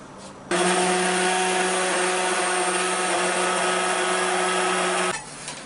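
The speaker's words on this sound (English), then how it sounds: "So now I'm going to blend it with my hand blender" A hand blender whirs steadily through soup with heavy cream, a loud, continuous motor drone that starts abruptly, holds for about four and a half seconds and cuts off, with no talk over it.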